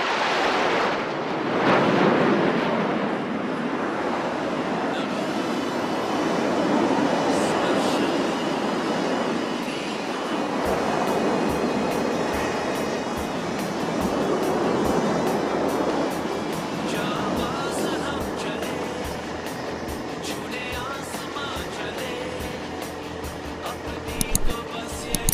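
Surya Kiran Aerobatic Team jets perform at the Aero India air show in Bangalore, giving a loud, broad, sustained jet roar that swells and fades as they pass, with faint crowd noise and wind buffeting.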